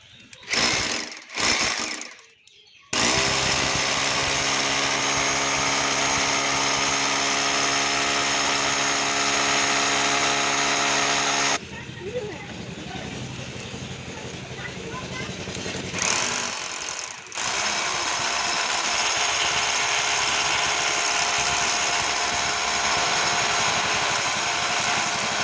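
A power drill bores a hole through a metal ceiling-fan hook blade during house wiring work, a loud steady high whine running in long sustained stretches with brief stops and restarts.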